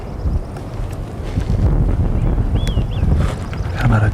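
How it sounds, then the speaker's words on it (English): Wind gusts across a disc golf course at the Masters Cup in Santa Cruz, California, producing a loud, continuous low rumble and buffeting against the microphone that swells and eases throughout. "the wind is picking up"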